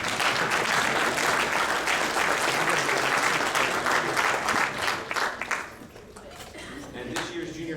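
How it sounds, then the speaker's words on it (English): At the 2014 Basketball Manitoba Awards, an audience claps loudly and densely for an award presenter, then the applause thins out and dies away into quiet room sound. "You can feel free to clap for Mr. Becker."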